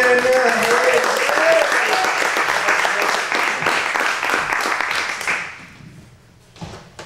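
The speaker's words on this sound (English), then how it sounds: "how about a huge round of applause for Craig Logan?" Audience clapping at an evening storytelling event as a performer named Craig Logan is welcomed, loud sustained applause from a full room that fades out toward the end, with a brief voice near the close.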